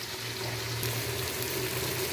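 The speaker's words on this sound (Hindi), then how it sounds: "ये थोड़ा सा पानी ऐड करूँगा मैं कि हमारा मसाला जो है नीचे लगे ना" Water is poured into frying masala in a pan while cooking mutton shorba, a steady close sizzling hiss and splash with no talk.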